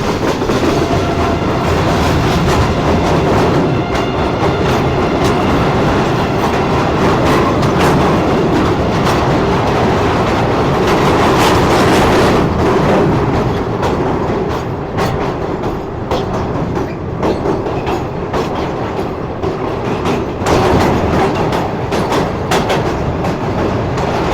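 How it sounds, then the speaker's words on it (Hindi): A passenger train crosses the Mehran Bridge over the Indus river near Hyderabad, Sindh, with a loud, steady rumble and rhythmic clickety-clack of wheels on rails throughout, heard close from on board. "चलें जी, फाइनली ट्रेन हमारी हैदराबाद शहर में एंटर हो चुकी है"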